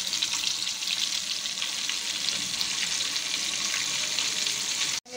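Flour-coated chicken pieces fry in hot oil for crispy KFC-style chicken, giving a loud, steady sizzle and bubbling throughout, close up and without talk, until a sudden clunk right at the end.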